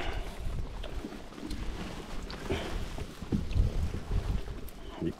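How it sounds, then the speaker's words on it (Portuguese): Steady wind gusts buffet the microphone on a campsite deck at Penha Longa, Minas Gerais, a continuous rough roar that swells and dips with no speech. "Eita, mas o vento não dá trégua."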